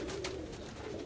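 A pigeon of the Neelnuma breed gives a brief, soft, low coo, faint and close, with light background noise and no talking.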